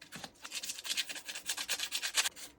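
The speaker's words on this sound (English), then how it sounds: "And I have sandpaper, some that's been used a little bit and some that's new." Sandpaper, some new and some worn, rubbing a Telecaster guitar part to give it a relic finish, heard as close, continuous strokes of varying pressure with no talking.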